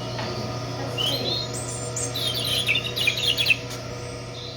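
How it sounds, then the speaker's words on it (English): A pet bird chirps and tweets in quick bursts, bright and fairly close, over a steady low hum in a room. "I thought a bird was in here."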